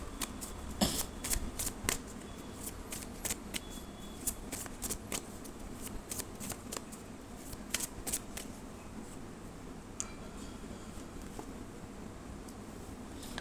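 Tarot cards being shuffled by hand, a close run of crisp riffling flicks and soft slaps in uneven bursts, with no talking.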